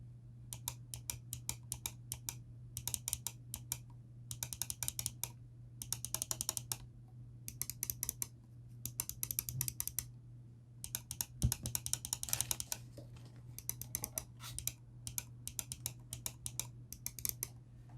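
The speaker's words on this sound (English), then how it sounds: "So that might be that Titan switch optical key underneath this button that you're actually hearing" Rapid clusters of crisp clicks from a ROCCAT Burst Pro mouse with Titan optical switches, played in short bursts separated by brief pauses, close and quiet over a faint steady hum.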